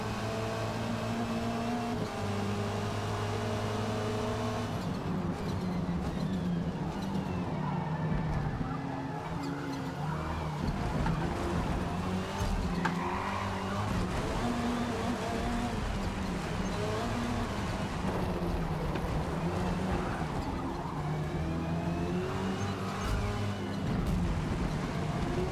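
Touring cars racing in a racing video game, a steady loud engine drone with shifting pitch and revving running throughout, no one talking.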